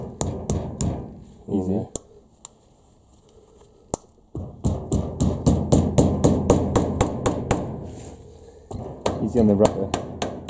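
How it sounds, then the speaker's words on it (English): A small hammer taps repeatedly on a rubber driveshaft boot of a Honda CRX, sharp close knocks in bursts and rapid runs, with someone talking briefly between strikes. "what I'm going to do is just grab a little hammer"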